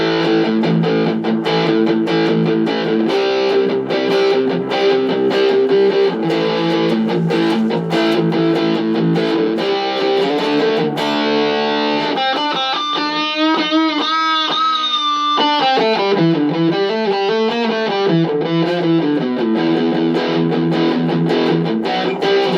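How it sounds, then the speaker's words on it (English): Distorted electric guitar through a Marshall MG15CFX practice amp with a distortion pedal, loud and continuous, with strummed chords giving way partway through to sustained, bending lead notes. "let's start with the distortion."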